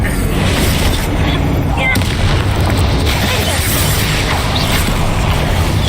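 A Bombarda blasting spell goes off in Hogwarts Legacy, a loud, dense wash of booming, crackling game sound effects that fills the whole stretch without a break, with a voice faintly present underneath.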